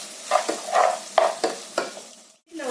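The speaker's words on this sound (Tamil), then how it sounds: "இது வந்து இந்த டொமேட்டோ வந்து நல்லா அந்த ஜூஸ் வர வரைக்கும் it needs to fry down" Tomato pieces frying down in a pan for tomato rice, a soft sizzle broken by several sharp scraping stirs of a spoon at a steady pace, close by, with a brief hush near the end.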